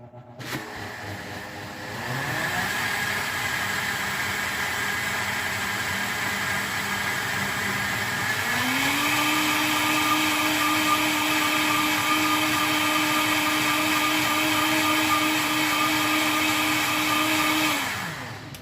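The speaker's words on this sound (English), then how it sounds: "Make sure that that is all totally blended and incorporated." A countertop blender whirs steadily for about fifteen seconds, mixing homemade Baileys Irish cream with instant coffee, its motor pitch stepping up partway through as it runs loud and close with no talking.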